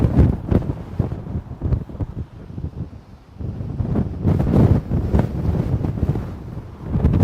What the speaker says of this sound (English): the wind speed may be increasing, as like I was saying earlier, it's starting to blow me off my feet here where I'm currently set up